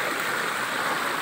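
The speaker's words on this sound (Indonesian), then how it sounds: "di sini ada juga air terjunnya" Dense, steady rushing water roars without a break, a broad continuous hiss of a waterfall nearby in a village near Pariaman, Indonesia.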